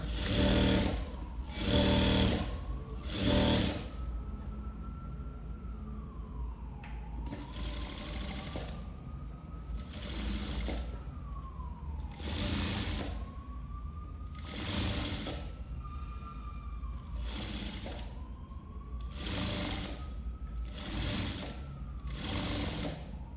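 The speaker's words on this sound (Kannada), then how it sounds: "ಈ ರೀತಿ ಸ್ಟಿಚ್ ಮಾಡ್ಕೊಂಬಿಡಿ" Close, steady whirring of a sewing machine stitching thread piping onto a canvas neckline, starting with several quick stop-start bursts and then running in longer continuous stretches with a rising and falling motor hum.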